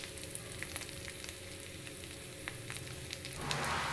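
Ivy gourd and okra frying in a covered pan, a constant dense sizzle with faint crackles, swelling slightly louder at the end.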